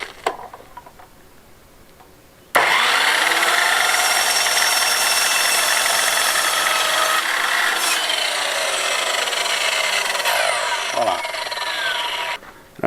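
A power saw cuts through wood during a finca renovation in Spain, a loud, steady, close whine that starts abruptly and holds for about ten seconds before stopping, with a short stretch of quieter handling beforehand.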